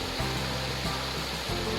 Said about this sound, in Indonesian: suara gemericik air itu adalah kolam ya teman-teman, untuk berenang.